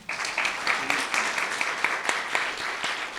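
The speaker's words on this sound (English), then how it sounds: "we're clapping and laughing" An audience at a university diversity forum applauding, a dense steady round of many hands clapping with a few sharper individual claps standing out, fairly close.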